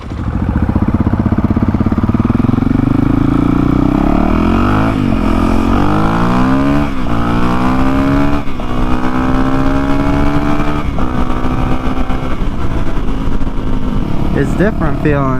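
A Honda CRF450L set up as a supermoto revs and accelerates through several gear changes, its engine loud and close with rising, falling pitch, while a rider talks briefly over it.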